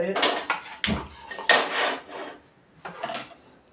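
A metal pressure cooker set down on a gas stove makes a few loud, close clanks and knocks of metal on metal, spaced out with short quiet gaps between them, while a Kerala mutton curry is being made.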